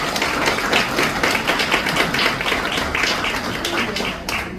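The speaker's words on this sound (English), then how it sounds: "Put your hands together for her again." A crowd at an International Men's Day celebration in Jamaica applauding the Minister of Culture, Gender, Entertainment and Sport, with dense, continuous clapping that stays loud and close for several seconds before easing slightly at the end.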